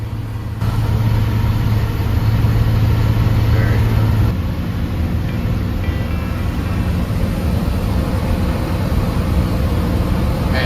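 An old school bus engine straining uphill under heavy load, a loud, steady droning roar close up that holds at high revs without shifting, with road and cabin rumble.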